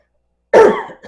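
A single harsh, close cough from a person with asthma, starting abruptly after silence and trailing off with a brief second rasp.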